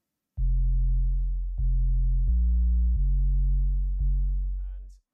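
A deep sub-bass synth sine tone in a drum and bass track plays a short line of held low notes with soft attacks, smooth and steady, tapering off at the end.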